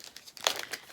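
A plastic bag crinkles faintly and close up, with a short burst of soft rustling and crackling pops.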